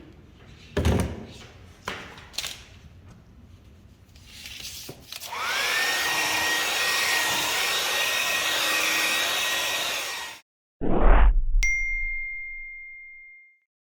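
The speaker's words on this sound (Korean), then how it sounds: "이렇게 다 바르셨으면 그래서 드라이기로 말리시면 됩니다." A few knocks and taps, then a hair dryer switches on to dry water-based white paint, blowing with a steady whirring roar for several seconds before cutting off, followed by a thud and a ringing ding.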